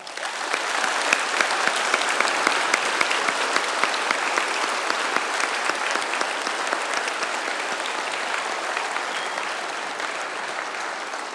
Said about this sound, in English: Please join me by giving them a round of applause.